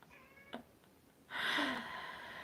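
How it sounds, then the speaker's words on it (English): An old cat meows indoors, a faint short call followed by a louder, drawn-out meow, alone with no talking. "And now my cat's calling me."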